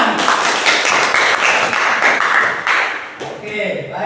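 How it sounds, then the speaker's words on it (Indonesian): A small group claps briefly after a class presentation at a religious education lesson, quick and uneven for about three seconds, then it breaks off and a voice begins. "Tepuk tangan."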